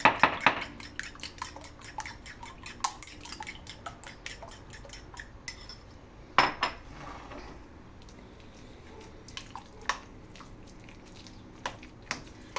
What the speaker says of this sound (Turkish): Şimdi şu yumurtayı şöyle bir çırpayım.